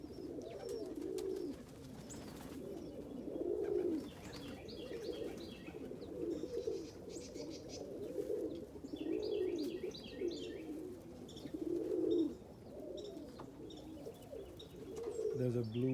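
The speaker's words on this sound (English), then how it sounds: "The snow, birds are doing their thing." Pigeons coo outdoors during a snow storm, soft repeated throaty calls in a loose rhythm, with some chirps and light background noise.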